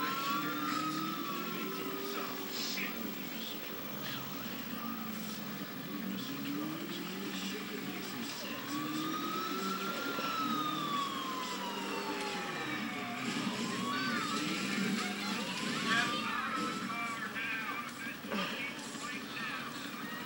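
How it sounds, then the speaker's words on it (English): Sirens wailing up and down during a police chase in the video game GTA, fairly faint and continuous, with helicopter noise and people talking over them. "Oh, they got another helicopter."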